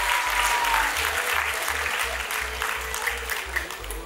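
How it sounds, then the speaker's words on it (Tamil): Audience applause at a music academy's annual performance, a steady, dense clapping from a crowd that carries on throughout without any talk. "அவர்களுக்கு மீண்டும் ஒரு பலத்த கைத்தட்டல் மற்றும் பாராட்டுகள்."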